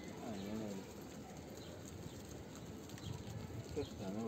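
Pigeons cooing in a coop in Manisa, soft repeated coos close by over a faint background of rustling and low murmur.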